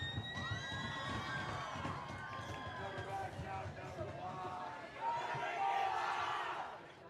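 High-school varsity football crowd cheering and shouting at Garden Grove against Pacifica, a continuous roar with whoops and yells that swells louder near the end, voices mixed throughout.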